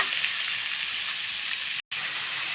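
Steady, loud sizzling of chicken frying in a hot pan with spices, continuous with a brief dropout near the end; no talking.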